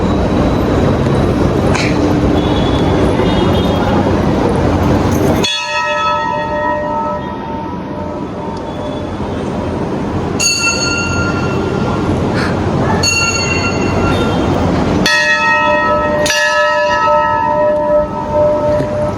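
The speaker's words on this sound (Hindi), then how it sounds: "घंटी बजा, घंटी।" A temple bell at the Ram Mandir in Raipur rings out several times with long shimmering tones, struck at intervals over steady crowd and background noise.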